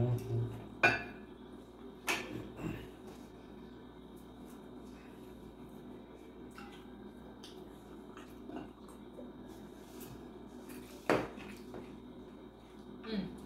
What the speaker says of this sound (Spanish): Lo voy a desmoldar, yo creo, porque aquí no se puede partir.